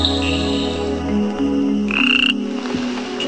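A critically endangered bubble nest frog calls loudly and close by in a steady stream of croaks and higher chirping notes over constant forest background sound.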